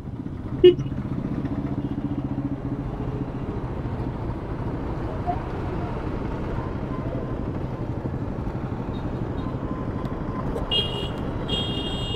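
Road traffic rumbles steadily around a motorcycle on a long ride from Chennai to Odisha, with engines droning close by, a brief horn toot near the start and another horn near the end.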